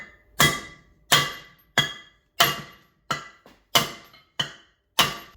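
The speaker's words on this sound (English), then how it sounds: "I'm gonna smack these studs out now." A hammer knocks wheel studs out of the rear hub of a first-generation Cummins truck with the drum removed, about eight sharp metallic blows landing close by at a fairly even pace.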